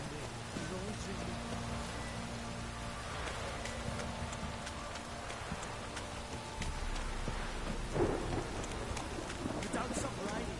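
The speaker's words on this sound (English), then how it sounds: "You don't stop raining, my arse will rot off." Steady rain pattering on surfaces with a low rumble of thunder rolling underneath, continuous and moderately loud, in the video game The Witcher 3.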